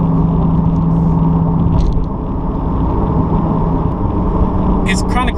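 A C8 Corvette fitted with a Borla ATAK exhaust, valves closed, rumbles low and muted from inside the car as it runs through the gears, a steady, fairly subdued drone with a faint tone shift partway.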